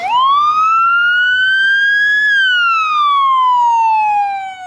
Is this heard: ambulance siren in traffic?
yes